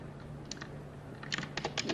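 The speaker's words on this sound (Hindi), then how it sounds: "सॉरी कीबोर्ड थोड़ा आवाज करता है।" Keys clatter on a noisy computer keyboard in quick uneven bursts of clicks, close and fairly quiet over a low steady hum.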